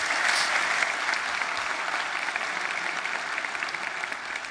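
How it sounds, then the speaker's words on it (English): Audience clapping after a talk: dense, steady applause from a sizeable crowd, sustained at an even level and easing slightly toward the end. "And a big applause for Mike Hearn."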